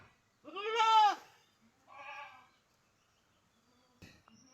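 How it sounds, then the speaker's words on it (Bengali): A young goat kid bleats twice nearby, first a long wavering cry, then a shorter, softer one, followed by a sharp knock in an otherwise quiet setting. "এটা আমার ছাগলের বাচ্চা"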